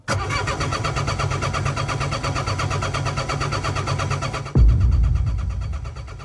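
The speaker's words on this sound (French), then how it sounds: "Il n'y a plus de préchauffe, ça démarre direct" An engine cranks with a fast rhythmic churn for about four seconds, then catches directly without preheating and settles into a loud, steady idle.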